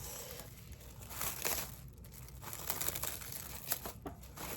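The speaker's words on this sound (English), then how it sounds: "I'm gonna put ceramic plastic over it" Thin plastic wrap crinkles and crackles as it is stretched over a dish of Jamaican chicken breast rasta pasta, with close, irregular rustling bursts and no talk.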